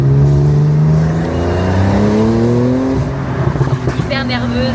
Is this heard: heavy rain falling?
no